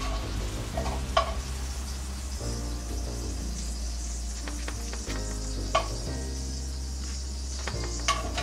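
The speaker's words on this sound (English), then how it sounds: "I got some butter over here melting" Butter melting and sizzling in a pan, a steady soft crackle with occasional clicks and utensil taps under background music, close and moderate.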